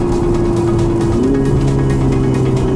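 A car engine hums loudly and steadily from inside the cabin on a road driving course, its tone shifting slightly downward as the car slows before turning around at a roundabout.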